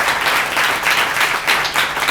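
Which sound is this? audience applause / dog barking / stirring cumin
audience applause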